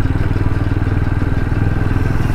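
Motorcycle ridden slowly along a road beside an IT campus service road in Kolkata, a loud, close, steady pulsing engine putter with faint clatter, no talk.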